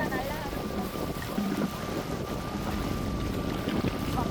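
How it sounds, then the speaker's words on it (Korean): Wind blows across the sea on the Korean west coast during a cast-net fishing outing, buffeting the microphone as a steady rushing noise while people talk nearby. "이렇게 바람 불면."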